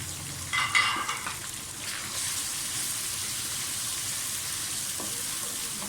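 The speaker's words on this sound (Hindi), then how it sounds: "साथ ही बाकी साबुत मसाले डाल दें।" Whole spices for bhuna qeema drop into hot oil in a pan and start frying with a steady, bright sizzle after a few stirring clinks at the start, loud and close, with no speech.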